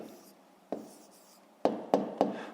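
A pen writes an answer on paper during a fifth-grade math exercise: soft scratchy strokes, then a few sharp taps and quick marks in a short close burst, with no talking.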